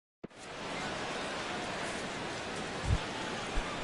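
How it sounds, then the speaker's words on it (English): Rain falling during a baseball game in The Show video game, a steady broadband hiss of rainfall filling the whole stretch after a sudden start, with a couple of soft low thumps near the end. "Rain continues to fall here in the 6th."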